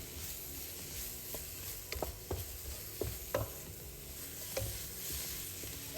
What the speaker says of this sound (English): So I'm going to put my temperature a bit high so that I can stir fry it well.